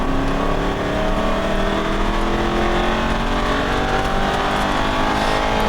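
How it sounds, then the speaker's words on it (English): An Aston Martin V8 Vantage on a racing track at full throttle, its engine note rising steadily in a loud continuous roar with climbing harmonics, heard close from the cabin. "Now accelerate. Full throttle and all the way to the left."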